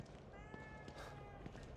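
A cat meowing in the horror video game The Evil Within 2, a short drawn-out meow within game ambience, with someone speaking over it.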